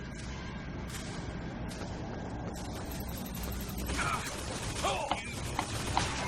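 Machine mechanisms clank, creak and ratchet in the game Bioshock Infinite, a quiet busy layer of metallic clicks and grinding with a few squeaky tones, steady and somewhat distant.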